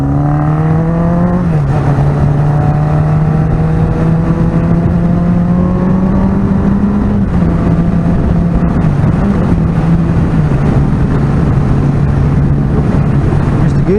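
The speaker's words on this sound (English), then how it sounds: "Missed the gear there, found that neutral between third and fourth." A motorcycle being ridden, its engine droning steadily with a loud, close drone under heavy wind rush, pitch rising through the gears with a gear change where the engine note drops and climbs again.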